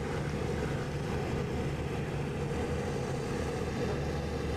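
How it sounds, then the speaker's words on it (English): Engines of WWII bomber aircraft in a 1941 flight-sim campaign drone steadily and loud, a dense, unbroken propeller rumble with no voices. "My back speakers start to give me more of their engine sound as they're coming up."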